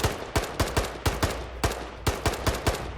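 Gunfire in the zombie shooter game Zombies War comes as rapid close shots, about fifteen sharp bangs in uneven bursts over a few seconds, loud and alone with no talking.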